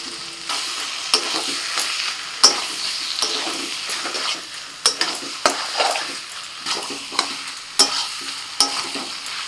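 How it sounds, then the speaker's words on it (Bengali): Fried potatoes and goat fat cooked with spices for aloo dum sizzle in a pan while being stirred, with a steady frying hiss broken by sharp, repeated scrapes and clinks of the spoon against the pan, close and fairly loud, no talk. "মশলার সাথে চর্বিটাকে ভালো করে কষিয়ে নিয়েছি। এবারে ভাজা আলু দিয়ে দিচ্ছি।"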